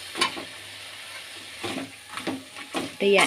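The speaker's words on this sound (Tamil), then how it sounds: "நல்லா எண்ணெயில் வதக்கணும் வெங்காயம் இப்போ" Onions sautéing in oil in a pan while making a coriander, curry leaf and mint chutney, a soft sizzle broken by several scraping stirs of a spoon, with a louder clatter at the end.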